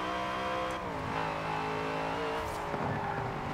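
Engine of a 900-horsepower Dodge Charger built as the Fast and Furious car in Forza Horizon 4, a steady loud rev with rising harmonic tone and a brief tire squeal, no talking.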